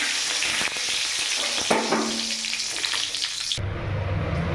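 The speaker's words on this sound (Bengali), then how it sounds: "এখানে নারকেল কুচি ভাজা হয়ে গেছে, আর দুটো তেজপাতা দিয়ে দিলাম।" Bay leaves and fried coconut pieces sizzle in hot oil in a pan, a loud, steady close frying hiss with stirring scrapes; the hiss drops abruptly near the end.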